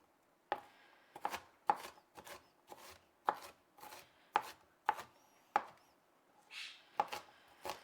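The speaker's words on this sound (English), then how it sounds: "I'm bad at cutting onions up." A knife chopping onions on a board for a Korean curry fish dish, about a dozen sharp, uneven chops with short pauses, close and fairly quiet, with no voices.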